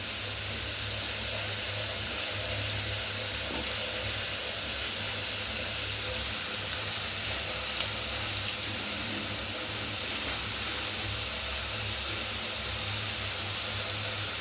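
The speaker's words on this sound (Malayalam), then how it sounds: "സവാള നന്നായിട്ട് ഇളക്കി കൊടുക്കാം." Sliced onions sizzle in a pan while being stirred, a steady, even hiss that carries on throughout over a low background hum, with an occasional faint clink and no talking.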